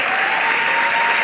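Audience applause, a short steady burst of many hands clapping together in a hall, even and sustained throughout with a faint crowd murmur beneath.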